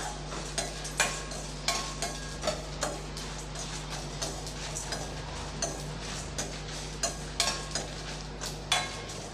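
Sambar masala spices and curry leaves dry-roasting in a pan without oil, a faint soft crackle under regular clicking taps of a spoon against the pan, repeated at a steady rhythm.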